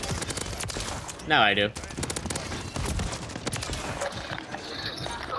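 Rapid Renetti pistol fire in Call of Duty MW3 crackles as a quick burst of close shots, with steady gameplay noise and someone talking over it.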